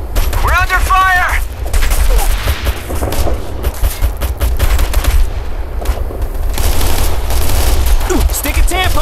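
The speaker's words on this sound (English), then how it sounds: "We're taking heavy fire." Heavy combat gunfire from the video game Operation Flashpoint: Red River, with dense bursts of rifle and machine-gun fire cracking continuously, loud and close, as shouted radio-style voices break in over the battle.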